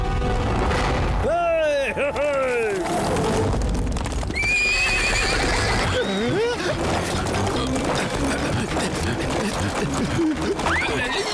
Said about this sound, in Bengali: কেউ ঘোড়াগুলোকে থামাও।